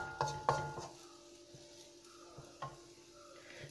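Spoon stirring a cabbage and carrot masala in a pan, with a few distinct metallic scrapes and taps near the start and one more later, over a faint low hum, close and quiet, with no voices.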